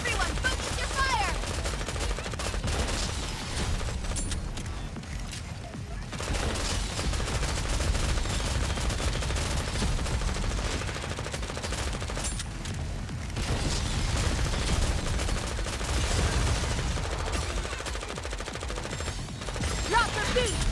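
Sustained automatic gunfire rattles densely throughout a battle in Goddess of Victory: Nikke, with booms and mechanical clatter mixed in and character voices shouting over the barrage.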